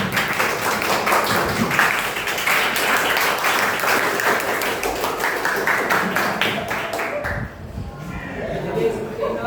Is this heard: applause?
yes